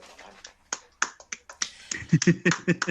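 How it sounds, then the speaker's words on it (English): Sharp, uneven claps ring out, sparse at first and then quickening into a brisk rhythmic burst, close and fairly dry, as one person applauds alone during a wrestling podcast. "clapping for you right now, Josiah."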